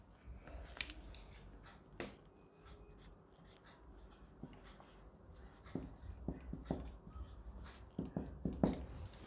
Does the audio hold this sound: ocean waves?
no